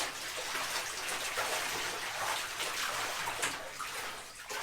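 A dirty winch rope sloshes and swirls as it is agitated and washed in a bucket of water, a steady close splashing wash.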